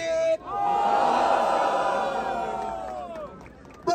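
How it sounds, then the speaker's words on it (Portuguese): A crowd at a freestyle rap trio battle erupts in loud cheering, whooping and shouting, a big sustained roar of many voices that swells, holds for several seconds and then breaks off abruptly. "Barulho quem gostou das rimas do trio da batalha NPN"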